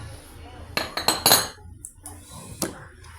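Cinnamon cookie dough is mixed in a bowl with a utensil, giving several close clinks and scrapes against the bowl in a short burst, followed by quieter handling.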